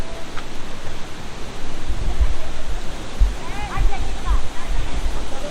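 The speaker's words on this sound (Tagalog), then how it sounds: "Pakita ko sa inyo yung falls." Sprite Falls in Majayjay, Laguna, a waterfall roaring in a steady, dense wash of rushing water, with low thumps and a few faint voices calling in the middle.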